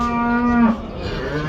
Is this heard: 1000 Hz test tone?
no